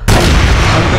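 A grenade explosion in a video game hits as a sudden, very loud close blast, then a sustained roaring broadband rumble for the rest of the second.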